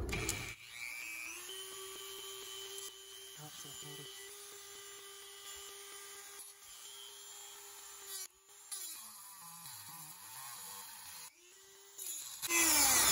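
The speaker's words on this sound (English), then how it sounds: "I'm using a Dremel cutoff wheel." A Dremel cutoff wheel cutting metal for a battery indicator slot, giving a steady high whine that holds for long stretches, dips and bogs briefly under load a few times, then swells louder near the end.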